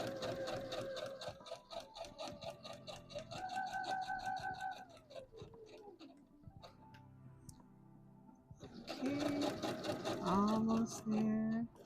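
A sewing machine stitching a seam on a McCall's M8141 dress, a steady close, rapid ticking run that slows and pauses midway before resuming, with a voice speaking over it.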